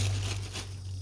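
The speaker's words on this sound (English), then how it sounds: "Inside it's got, it's in a plastic bag. Let's get rid of that." A plastic bag is torn open and pulled away from a newly unboxed 15-inch surface cleaner attachment for a pressure washer, a short close crinkling rip over a steady low hum.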